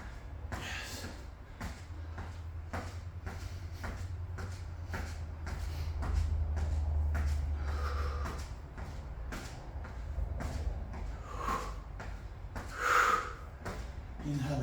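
Heavy, rhythmic breathing with snorts and gasps during a garage workout of push-pull and dynamic tension exercises, close and loud, with bursts of effortful exhales and some shuffling movement.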